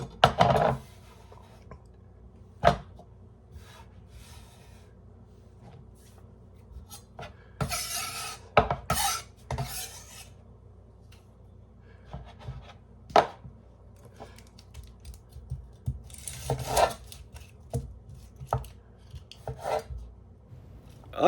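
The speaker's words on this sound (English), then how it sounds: "I'm just running a knife nice right through the middle of it. Back and forth, back and forth, back and forth" A kitchen knife saws back and forth through a meatloaf in slow, irregular strokes, with scraping and rasping bursts and occasional sharp taps on the board, close and alone without talk.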